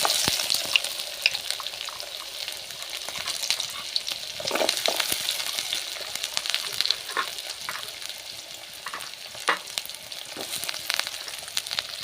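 Onions fry in hot oil with a close, steady sizzle, broken by a few sharp clicks and scrapes of a utensil, at moderate loudness and with no voices.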